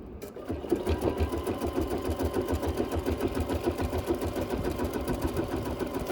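A sewing machine stitches a wool pumpkin garland, its needle clattering in a fast, even mechanical rhythm with a low motor hum, close and steady after a brief start, no voices.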